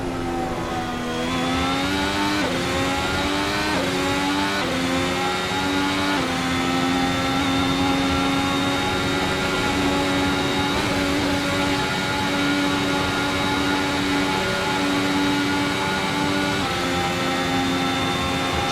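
Race car engine in a racing video game on the Nürburgring, a loud continuous drone rising and falling in pitch through repeated gear shifts and throttle changes, steady and close throughout.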